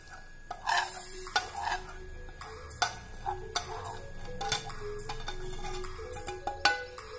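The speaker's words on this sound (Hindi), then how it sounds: "ये सब हमने इसमें ऐड करके इसको हमने मिक्स कर देना अच्छे तरीके से" Spices for Amritsari wadiyan being stirred together in a bowl, giving irregular light clinks and scrapes of a spoon against the dish at close range, with no voices.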